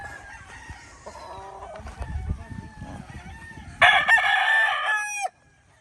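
A mountain-raised gamefowl rooster crows loudly nearby at a large gamefarm in Arayat, one long strident call rising over softer clucking and farmyard chatter from other fowl.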